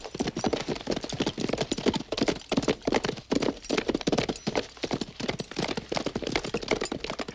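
A horse gallops with steady, rapid clip-clop hoofbeats, close and loud throughout, in a classic family drama set among Indians.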